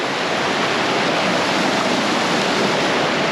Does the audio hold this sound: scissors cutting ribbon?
no